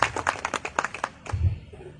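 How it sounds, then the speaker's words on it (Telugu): A small crowd of listeners claps in a quick burst of uneven hand claps that fades after about a second, followed by a low thump and faint murmuring. "ఒక్కసారి మీరు వాళ్ళకి చప్పట్లు కొట్టండి నా తరఫున."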